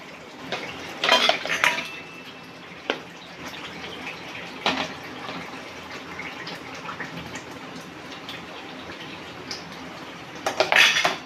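Boiled potatoes are stirred into a cooked gravy in a pot for dum aloo: a spoon clinks and scrapes against the metal in scattered bursts over a soft, wet background.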